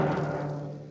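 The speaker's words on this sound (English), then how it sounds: "And if we tighten the skin, it sounds like this." A drum whose skin has been tightened by turning its tuning handles, struck once so it rings at a higher pitch and decays over about a second, fairly soft and close.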